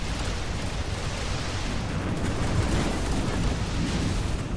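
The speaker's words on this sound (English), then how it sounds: "Being shot from behind." Dense, continuous gunfire and explosive blasts from the mech shooter video game Galahad 3093, a steady loud roar of shots with no pauses across the whole stretch.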